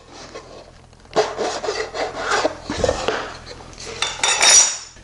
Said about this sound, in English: I can take them down with a file and with a couple licks